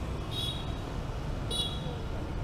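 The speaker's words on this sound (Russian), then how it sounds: "Например, вот, видите, сигналит." Amid steady Vietnamese street traffic noise, a motorbike horn gives two short beeps about a second apart, slightly distant, with a person talking over the roadway sound.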